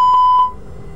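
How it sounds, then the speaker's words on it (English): Warning tone from an A330/A340 cockpit fire warning test before APU start, a loud, steady electronic beep with two pulses that cuts off after half a second. "I'll perform a fire warning test before starting the APU."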